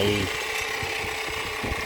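A hand file rasps against the edge of a handmade ring cut from a 1974 Thai Garuda coin, making steady repeated scraping strokes close up.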